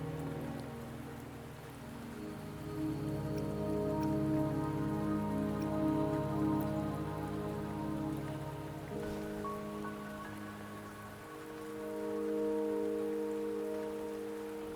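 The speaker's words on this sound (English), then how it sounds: "Don't worry, the rain won't last much longer." Steady rain patters across the scene in the video game Wuthering Waves, a continuous wash of falling drops with sustained tonal music layered beneath it.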